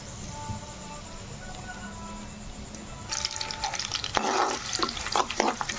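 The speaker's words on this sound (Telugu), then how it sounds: "ఇప్పుడు మనం ఒక చిన్న ఉల్లిపాయ వేసుకుందాం కట్ చేసుకొని" Chopped onions hit a hot pan and begin sizzling loudly as they are stirred, with scraping and clattering in the last few seconds, following a quiet stretch of low kitchen background.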